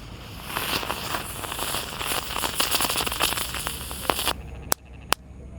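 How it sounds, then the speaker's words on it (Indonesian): A large Pratek spinning-top firework burns with dense, loud crackling and sizzling for several seconds, then cuts off abruptly, leaving two sharp isolated pops. "yang kita nyalakan ini ada gangsingan yang paling besar, gangsing Pratek teman-teman"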